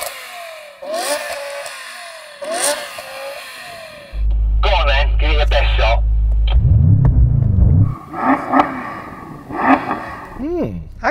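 BMW M5 engines revved during a side-by-side sound check: a deep, loud idle rumble swells into a long rising rev and falls away, with short throttle blips and people talking before and after.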